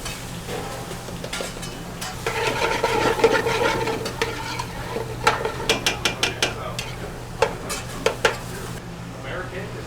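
Onions sweating gently in a pan, a soft low sizzle beneath repeated metallic stirring and clinking of a utensil against the pan, with rhythmic taps growing sharper in the second half.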